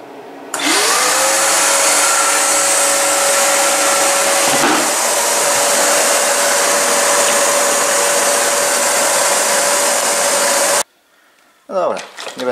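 A vacuum cleaner fitted with a homemade cyclone separator switches on with a rising whine and roars steadily and loudly for about ten seconds, then cuts off abruptly, followed by brief rustling.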